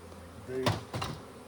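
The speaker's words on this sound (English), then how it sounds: "I like these bees." Honeybees buzz around a brood frame during queen-rearing preparations, a soft continuous hum with two brief louder swells as bees pass close.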